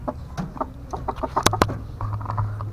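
Red fighting rooster clucking in short repeated bursts close by, with scattered farmyard noises between the calls.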